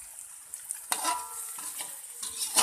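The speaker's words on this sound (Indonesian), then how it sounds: "Saat menggoreng bumbu, jangan lupa untuk sering mengaduknya ya guys." Spice paste for fried nasi tiwul frying in leftover egg oil in a pan, stirred often: close, crackling sizzle with repeated scraping and clinking stirs of a utensil against the pan.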